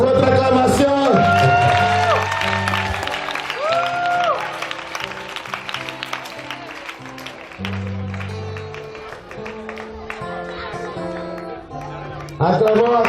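A crowd cheers and shouts with scattered applause at a 20th wedding anniversary celebration, voices rising and falling over loud, tonal background music.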